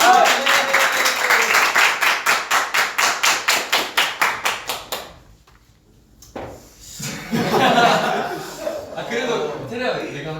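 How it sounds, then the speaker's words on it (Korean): Rhythmic group clapping with a steady, even beat for about five seconds, stopping abruptly, followed by a short pause and then chatter and laughter from several people close by. "박수 한번 쳐주시죠."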